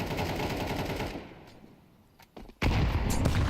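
A grenade goes off in a professional Counter-Strike match at a BLAST tournament, a loud close burst amid heavy gunfire, dropping briefly before another sharp blast.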